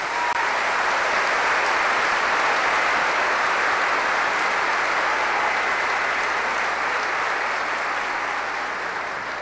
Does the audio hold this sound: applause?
yes